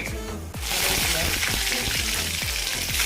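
Mustard seeds hit hot oil for a tempering, bursting into a loud, dense crackling sizzle with rapid popping that stays strong and close throughout, after a short quieter moment at the start.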